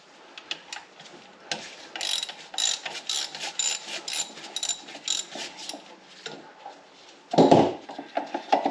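Close ratchet clicking as a 12mm bracket bolt comes off a Subaru Forester EJ25 engine, a steady run of fast metallic pawl ticks in repeated bursts, ending with a louder clunk near the end.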